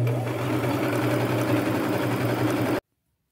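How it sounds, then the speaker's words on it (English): A sewing machine runs in one continuous, steady hum while stitching fringe onto the armholes of a kimono made from a maxi skirt, then stops abruptly into silence. "I'll just start sewing all that on."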